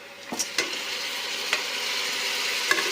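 Cooked mutton goes into a biryani pot and fries in a steady sizzle, with a few sharp clanks of a stirring spoon against the pot and no voices.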